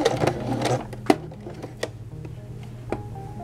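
A sewing machine stitches a women's button-down shirt collar in short, uneven bursts, its motor whirring steadily then pausing briefly between runs, close and clear with no talking.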